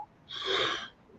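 One muffled sneeze at a distance, a brief breathy burst that swells and fades within about half a second.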